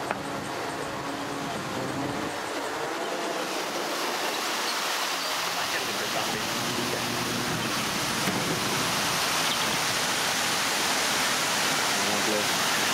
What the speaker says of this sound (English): No, this is just a spillway for the dam.